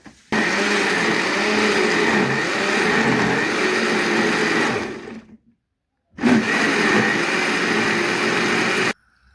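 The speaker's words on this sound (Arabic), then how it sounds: "هنضرب الخلطة دي كلها في الخلاط." A blender whirs loudly and steadily for about five seconds mixing flour and starch batter for crispy cauliflower, stops briefly, then runs again for a few more seconds before cutting off.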